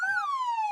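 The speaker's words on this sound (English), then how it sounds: "A helpful white ambulance." A white ambulance siren rings out alone in a short cartoon-style sweep, its tone gliding up then slowly falling, clear and fairly close.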